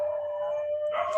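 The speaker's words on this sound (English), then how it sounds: "I'm sorry about my dogs." Dogs howl in one sustained, steady, wavering tone that holds for over a second, moderately loud, with a brighter rise near the end and no speech over it.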